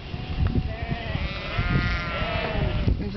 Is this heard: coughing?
no